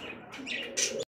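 Domestic pigeons at a pigeon farm, including high-flying Giribaz birds, give short, close bird calls and soft chirps over a low murmur that lasts about a second.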